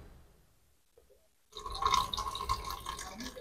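Water runs into an Orient water dispenser after a quiet stretch with a couple of faint drips, becoming a steady, close splashing and trickling flow.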